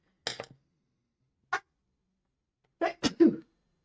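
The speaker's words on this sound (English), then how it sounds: "I feel a sneeze coming on as well" Several short, sharp bursts of breath: a quick sneeze-like burst, a lone puff, then a louder sneeze followed by a trailing sniff, all close by.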